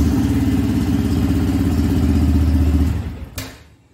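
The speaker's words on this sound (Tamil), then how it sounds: "ஸோ இப்போ நான் ஆன் பண்ணால் வண்டி ஆன் ஆகும்." A Yamaha FZS V3 BS6 motorcycle engine idles with a steady, close, throbbing putter, then cuts out, leaving a short click and fading quiet.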